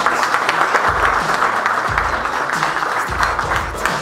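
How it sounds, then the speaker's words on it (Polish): Guests at a business league gala applaud the players, steady dense clapping from a roomful of people continuing evenly for several seconds. "teraz poszło brawa dla was"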